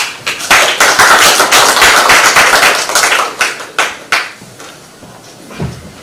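Audience applause after a keynote lecture at a summer academic conference, a dense burst of clapping at first that thins into a few scattered, fading claps near the end.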